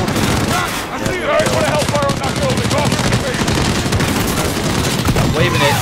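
Rapid sustained automatic gunfire and bursts in the video game Call of Duty: Modern Warfare, dense and loud throughout, with voices shouting over the shooting.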